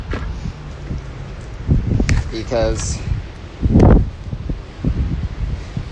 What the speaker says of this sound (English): it is a little too windy to be vlogging